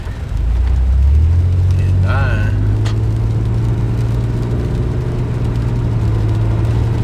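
A 4-wheel drive vehicle in 4-high cruising Interstate 30 in Little Rock during a sleet storm, a loud steady engine drone and road rumble from inside the cab, with a brief rising whine early on.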